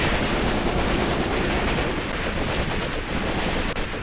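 Dense, continuous gunfire fills a battle in the World War II tactics game Graviteam Tactics: Mius-Front, with loud overlapping shots and bursts and no pauses.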